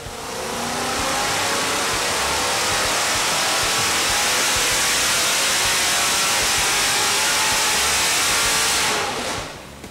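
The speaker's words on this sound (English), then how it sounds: "Let's check out one of the customers' big block Chevrolet power plants running today." A 540 cubic inch big block Chevrolet Merlin engine roars on a dyno at full load, a loud, sustained, dense engine noise that holds steady for several seconds before cutting off near the end.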